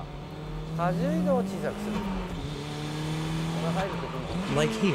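A race car drifts on a track, carrying too much speed into the corner, with engine revs rising and falling and tires squealing in short bursts while someone talks over it.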